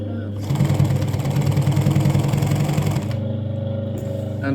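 Dürkopp 239 industrial sewing machine sews through thick denim at a slow, controlled speed, a loud steady mechanical whirr with a fast stitching pulse that runs for a few seconds and then eases to a lower hum.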